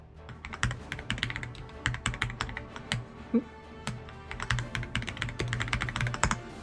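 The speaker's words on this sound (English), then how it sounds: "Little keyboard ASMR for you all." Computer keyboard typing from a Final Fantasy XIV session, with fast, close, clattering keystrokes in dense irregular bursts that run nonstop and stay fairly loud, with no talking.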